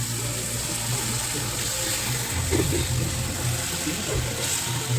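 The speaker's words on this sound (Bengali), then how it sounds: "ওখান থেকে আমি একটু জল দিয়ে দিলাম, নাহলে চিনিটা পুড়ে যাবে" Water from boiled mango poured into melting sugar in a pan, a steady wash of splashing and bubbling with low clattering underneath throughout.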